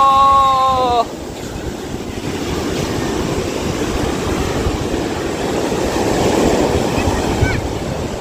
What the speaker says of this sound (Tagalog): Laki alon!